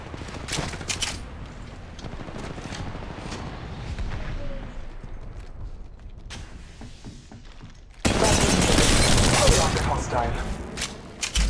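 Gunfire in the mobile shooter Apex Legends Mobile: a steady stream of rapid shots runs throughout, swelling into a dense, louder barrage for the last few seconds, with brief in-game voice callouts.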